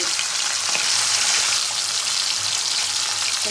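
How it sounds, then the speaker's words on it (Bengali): Pomfret fish frying one at a time in a hot kadai of oil, giving a steady, loud, close sizzle with bubbling crackle throughout and no talking. "একটা করে ভালো করে ভেজে তুলে নেবে।"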